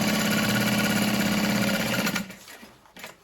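A sewing machine stitching water-resistant canvas for a tote bag, a fast steady mechanical whir of the needle that stops abruptly after about two seconds, followed by a few faint handling clicks.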